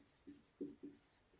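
Chalk or marker writing on a board during a lesson, three short scratchy strokes in quick succession and then a faint fourth, quiet and close.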